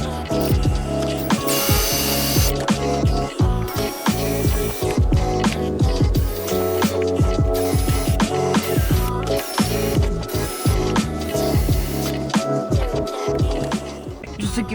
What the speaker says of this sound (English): Just remove all that out so I can make sure I got every spot weld drilled out. So let's go ahead and get drilling.